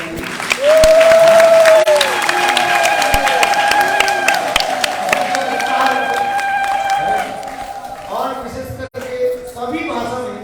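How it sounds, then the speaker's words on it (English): Devotees at a religious gathering clap together, a loud, lively crowd applause mixed with sustained tones and cheering that carries on for several seconds before tapering off into other noises. "That's why I clap for everyone."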